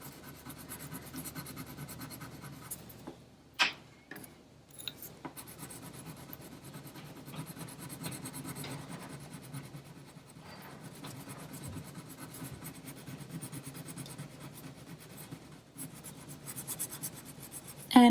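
Colored pencils or crayons rubbed and blended across paper while drawing a chameleon, a steady soft scratchy rasp of strokes that continues close and quiet for the whole stretch, with brief pauses and no talking.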